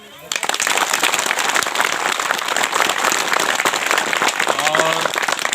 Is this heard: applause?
yes